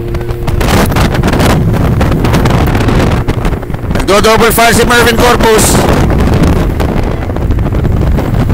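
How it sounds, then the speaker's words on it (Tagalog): Heavy wind buffets the microphone in rough, rumbling gusts throughout a road cycling race, while someone talks loudly over the noise. "The wind is coming from the right side."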